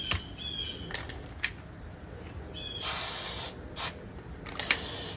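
Spray adhesive hisses from an aerosol can in several short bursts of varying length, close by and separated by quiet pauses.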